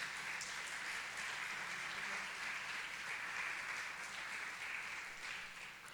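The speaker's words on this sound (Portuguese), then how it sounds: "Você pode aplaudir o Senhor por essa palavra" Church congregation applauds steadily during a Portuguese-language service, a continuous wash of many hands clapping that holds even throughout and sits somewhat distant and soft.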